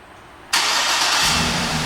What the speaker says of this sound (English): And the vehicle turns right on.